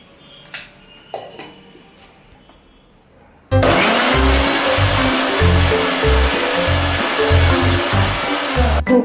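A kitchen mixer grinder blends coconut, coriander and garlic into a paste, starting abruptly after a few quiet clicks and then roaring loudly and steadily with a pulsing, churning motor whine.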